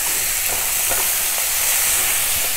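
Sundal, a green gram snack, is stirred and fried in a hot pan, with a loud, continuous sizzle and repeated scraping stir strokes close by.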